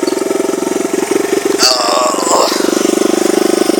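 A Honda XR100R dirt bike running on 104-octane race fuel, its single-cylinder engine popping in a fast, steady rhythm up close, with a brief rev in the middle and a short spoken exclamation.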